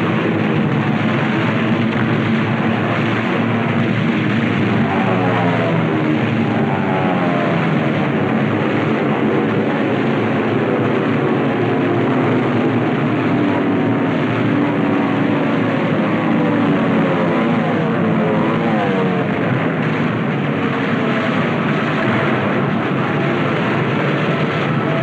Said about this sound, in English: The planes appear to float gently off our bow.